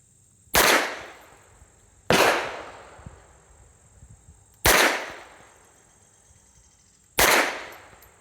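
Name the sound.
unsuppressed .22 rifle gunshots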